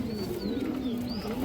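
Pigeons in a loft give low, steady cooing throughout, with a few faint higher chirps drifting over the top, close and continuous.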